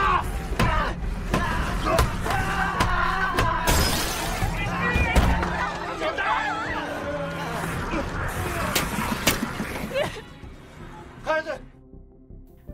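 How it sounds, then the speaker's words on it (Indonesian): A glass train door is smashed in a zombie film, with repeated heavy crashes and shattering impacts amid chaotic thuds and scraping, accompanied by people's voices and movie sound, tailing off into quieter sound at the end. "Yong-guk pun terpaksa berjuang keras memecahkan pintu kaca yang menghalangi mereka"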